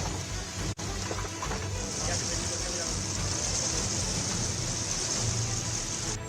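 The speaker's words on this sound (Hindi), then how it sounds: "दिल्ली एनसीआर में जानलेवा बारिश का कहर।" Heavy storm rain in Delhi-NCR pours in a dense, steady outdoor hiss that stays loud and continuous, with a brief dip near the start and traffic-like rumble underneath.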